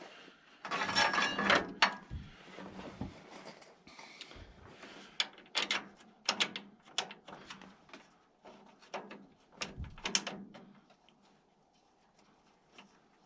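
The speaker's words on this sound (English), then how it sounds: "Okay, let's bolt her in." Bolts being driven in to fit a nylon post bushing on a Woodland Mills sawmill, heard as a series of close ratcheting clicks and metallic taps in uneven bursts, with quiet gaps between.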